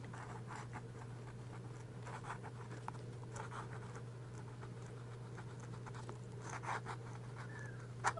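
Quiet, close scratching of a fountain pen nib across paper in short irregular strokes, over a steady low hum.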